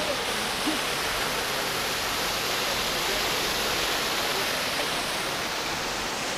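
Mendelikha waterfall roars in a waterfall park, a dense, steady rush of falling water heard close and loud throughout, with no voices over it.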